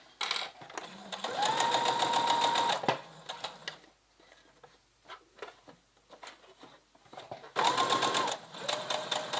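A domestic sewing machine stitches fabric for a doll pattern in two loud running bursts with a quieter pause between, where small handling clicks and fabric movement are heard as the presser foot is lifted and the work turned.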